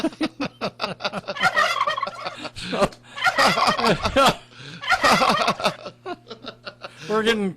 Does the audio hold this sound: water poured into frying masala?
no